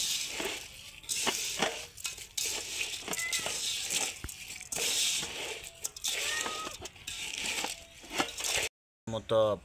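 A cat meows a few times in a home kitchen while rice and lentil khichuri is prepared, short mewing calls mixed with crinkling, clinking and a person talking throughout.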